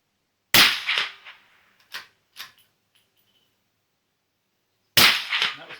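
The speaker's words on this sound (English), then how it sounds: "I reckon that sounded pretty similar to the big suppressor." Three sharp suppressed shots from a small-calibre rifle firing 40 grain cartridges through a DPT Magnum suppressor, the first and last loud cracks with short decays and a quieter one between, plus faint mechanical clicks, no talking.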